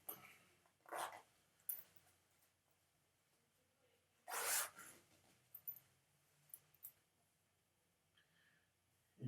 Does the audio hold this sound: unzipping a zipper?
yes